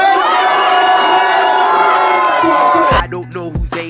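A crowd cheers and shouts loudly for about three seconds, a dense mix of whoops and raised voices that drops off suddenly into quieter, scattered sounds.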